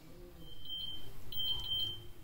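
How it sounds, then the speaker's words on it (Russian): A kitchen timer goes off beside a stove where pumpkin simmers in a covered pot, giving two short bursts of high, steady electronic beeps over a low background hum. "таймер сработал, 30 минут прошло"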